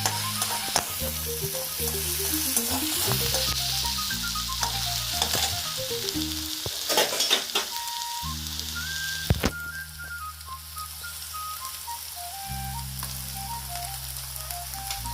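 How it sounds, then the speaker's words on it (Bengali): Ginger, garlic and chili paste frying with cauliflower and other vegetables in a hot pan, a loud continuous sizzle with stirring noises, under a melodic background tune and no voices. "আদা বাটা, রসুন বাটা আর লঙ্কা বাটা একটু একটু করে আমরা দিচ্ছি।"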